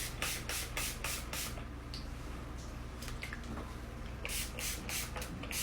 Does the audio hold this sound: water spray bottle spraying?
yes